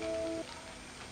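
Crushed garlic sizzling in hot oil in a Bengali egg posto curry, a soft, close crackle that starts just after a faint tonal hum fades.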